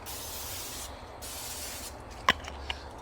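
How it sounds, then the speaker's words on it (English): Quick aerosol spray burst onto the grill grates of an M Grills M36 smoker during seasoning, a short hissing spritz with a sharp click near the end over steady outdoor background noise. "maybe give it one more spray"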